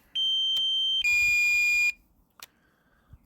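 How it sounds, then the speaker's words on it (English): A DJI Mini 2 drone controller sounds its low battery alarm: two sustained electronic beep tones back to back, about two seconds in all, loud and close, followed by quieter clicks and a faint tone. "Low battery alarm. That wind really chewed it up."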